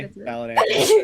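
A single person's sneeze bursts out near the end of a casual group interview, loud and close, right after a short stretch of talking.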